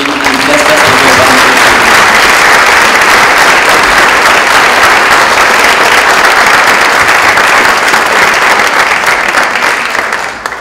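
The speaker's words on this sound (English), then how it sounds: "can we have another round of applause for the wonderful monks who came and blessed us" Sustained, loud audience applause at a literature festival inaugural session, a dense wash of many hands clapping continuously for about ten seconds before tapering slightly at the end.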